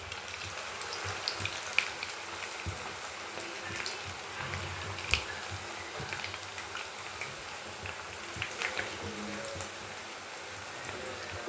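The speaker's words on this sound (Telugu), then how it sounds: "ఇప్పుడు ఒక్కొక్క చికెన్ని వేసుకుంటూ 2 వైపులా మంచిగా ఎర్రగా కాలేంత వరకు ఫ్రై చేసుకుంటే సరిపోతుందండి" Chicken pakoda pieces fry in medium-hot oil in a pan, giving a continuous crackling sizzle with scattered sharper pops, steady and close throughout.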